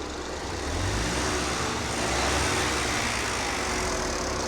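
A BMW car engine idles smoothly and steadily up close, a constant even drone with no stumbles or misfires, no voices over it.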